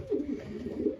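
Racing pigeons cooing nearby in their loft, two soft low throaty coos with a rolling warble, close and quiet with no talk.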